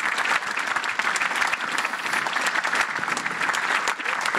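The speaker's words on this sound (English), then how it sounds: "you can compensate by giving a big, big applause" Audience at a conference panel debate applauds steadily and warmly, a dense continuous clatter of many hands filling the room without pause.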